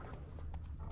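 Horse hooves clip-clop at a steady walking pace, fairly close but quiet, with no talking over them.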